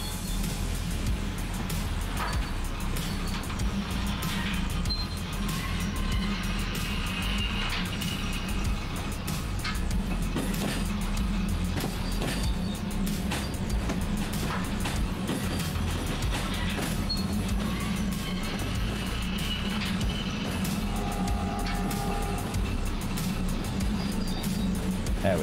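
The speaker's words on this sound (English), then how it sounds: "this locomotive is really, really slow" A Yugoslavian shunter locomotive crawls along slowly in Derail Valley, with a continuous low droning hum and scattered light clicks and rattles throughout, no talk.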